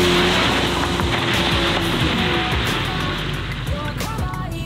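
A Hyundai car brakes hard for an obstacle on a wet track during a driving-academy track-day exercise in Berlin. Loud, close engine and tyre roar with squealing, skidding tones runs continuously, with no talk.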